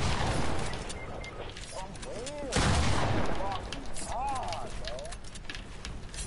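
Gunfire in an online shooter video game, a scatter of sharp shots and bursts with some rapid fire heard under excited players' voice chat, with a louder blast partway through.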